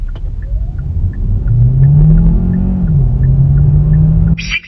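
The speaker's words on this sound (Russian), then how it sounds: "давайте покажу, опять же, лучшее время разгона." Car on winter tyres accelerating hard during an acceleration test, heard from inside: a loud, steady engine drone rising in pitch through a gear change, with tyre and road rumble underneath.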